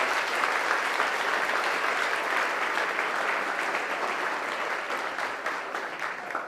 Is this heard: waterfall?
no